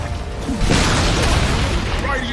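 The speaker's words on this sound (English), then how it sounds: "Radiant's top tower has fallen!" Dota 2 tower falling: a heavy booming crash with crumbling debris that swells and rumbles on for about a second and a half, with voice chatter over it.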